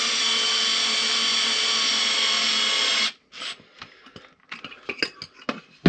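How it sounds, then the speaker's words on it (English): Power drill running at slow speed to wind a part into place, a steady motor whine for about three seconds, then stopping and giving way to scattered clicks and handling noises close by. "If you slowly wind the drill in,"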